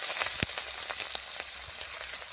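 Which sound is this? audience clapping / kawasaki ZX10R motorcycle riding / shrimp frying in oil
shrimp frying in oil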